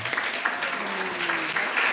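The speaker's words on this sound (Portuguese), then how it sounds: "eu gostaria que vocês aplaudissem a Jesus pela vida dessas irmãs queridas" A church congregation applauds, a dense, steady patter of many hands clapping at once, close and sustained, with a faint voice beneath.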